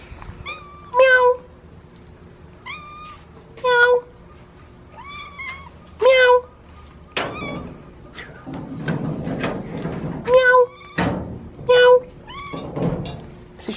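A cat meows repeatedly in short, clear calls spaced a few seconds apart, with some rustling and shuffling noise in between.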